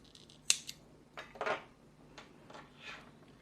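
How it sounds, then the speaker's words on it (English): Small scissors snip crochet yarn ends close to the stitches, a few quiet crisp clicks and a soft slicing snip, close up and faint in a quiet room. "Then we can grab our scissors and cut it close."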